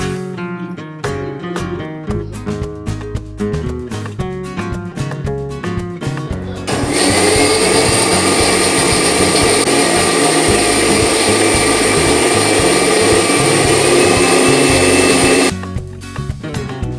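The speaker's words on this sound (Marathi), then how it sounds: "हे सर्व साहित्य मी अगदी मिक्सरमध्ये फिरवून घेणार आहे" A kitchen mixer grinder blending gulkand lassi ingredients in a juice jar: after a stretch of rhythmic percussive music, the motor kicks in with a loud, steady high whine for about nine seconds, then cuts off as the music returns.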